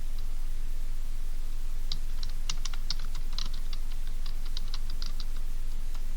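Typing on a computer keyboard, a steady run of light clicking keystrokes in uneven bursts over a low background hum, fairly close and with no talking.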